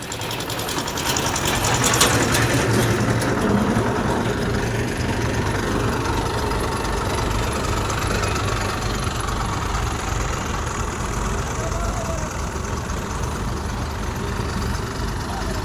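A tractor with trolley, stuck and unable to move forward or back, runs continuously with a rough, rattling drone that stays steady throughout, fairly loud with faint background noise.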